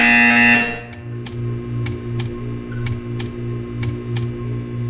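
Buzzer in the video game Portal 2: after a brief loud burst, a low electronic buzz pulses in a steady repeating rhythm, with sharp ticking clicks spaced across it, clear and close with no voices.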